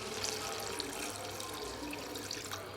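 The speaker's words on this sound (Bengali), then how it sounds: "এখন জল দিয়ে দিই" Water is poured into a pot of cooking goat meat, a close, steady gushing splash that runs for a few seconds and is heard alone with no voices.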